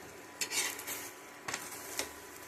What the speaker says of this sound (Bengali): সাদা তেল দিচ্ছি, রাইস তেল দিয়ে দুপাশ উলট পালট করে